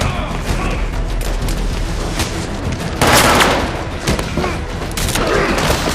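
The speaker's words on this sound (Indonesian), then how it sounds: "Yong-sak kemudian membawa presiden keluar dari dalam bunker dengan meledakkan dinding yang sudah dipasang bom dan tiba-tiba Mike datang hingga adu tembak pun tak dapat dihindari." A film gunfight after a bunker wall is blown open with a planted bomb, with dense gunfire and booming blasts. The sound is loud and continuous, and a heavier burst hits around the middle.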